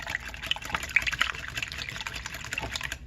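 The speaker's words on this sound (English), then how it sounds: "So I'm just going to whisk up my eggs" Eggs whisked briskly in a bowl for low-glycemic Mexican taco egg bites, a steady run of quick, close wet clicks and sloshing lasting the whole stretch, with no talk.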